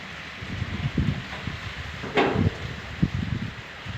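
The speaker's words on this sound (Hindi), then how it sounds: "ये देखिए कितनी तेज़ हवा चल रही है।" Gusty wind during rain in Karak buffets the microphone in irregular low rumbling bursts over a constant rushing hiss, with a brief sharper rustle midway.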